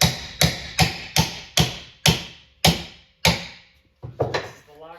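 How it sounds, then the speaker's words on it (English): A crowbar strikes and pries at a garage door overlay glued with construction adhesive, giving a series of sharp wooden knocks at roughly regular intervals, close and loud, with a faint creak between blows. "So got a crowbar, gonna go at these same glues, see what happens."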